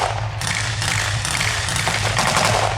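Automatic weapons, including Thompsons and a Browning automatic rifle, firing blanks at a Tank Fest battle reenactment at The Tank Museum, sustained rapid bursts of clattering fire heard at a moderate distance over a low engine rumble.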